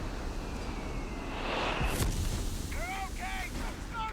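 Distant artillery booms from a white phosphorus strike in a Company of Heroes 3 2v2 match, a muffled rumble swelling and bursting over a constant battle din, followed by faint whistling tones.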